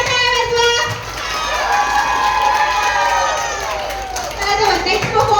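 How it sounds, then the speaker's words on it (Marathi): A cultural fest crowd cheers and shouts, with high whoops and rising and falling voices over a busy background of crowd noise that swells again near the end. "जोरदार टाळ्या वाजवा"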